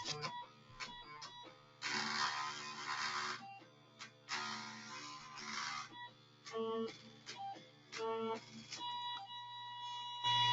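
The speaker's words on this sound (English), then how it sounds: "the page is actually printing" A Brother mobile printer runs a page in two long bursts of whirring feed noise, broken up by short mechanical ticks and electronic tones, close by and moderately loud.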